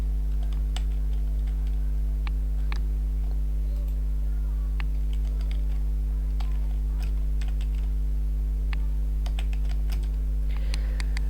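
Close typing on a computer keyboard, quick irregular key clicks in short bursts over a loud constant low electrical hum.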